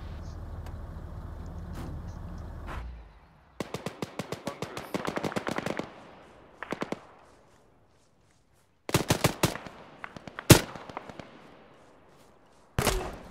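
Gunfire in a military video game, bursts of rapid automatic shots alternating with single sharp cracks and quiet gaps, some shots close and loud, others more distant, with a vehicle rumble at the start.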